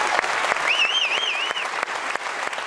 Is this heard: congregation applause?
yes